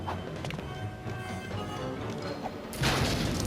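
Lamppost smashed in the Lego Batman video game, a loud crunching crash bursting in near the end over a busy bed of game music and clattering effects.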